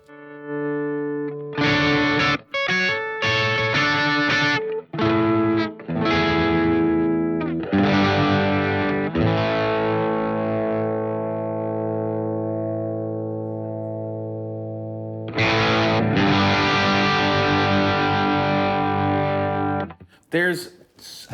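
Electric guitar through an overdrive pedal, played as loud, driven chords and sustained ringing notes. Choppy strums come first, then a long decaying chord, then more strums, all close and alone.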